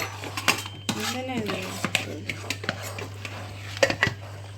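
Spoon stirring unniyappam batter in a bowl, scraping and clinking against the sides in irregular strokes, close up, with a steady background hum and brief speech.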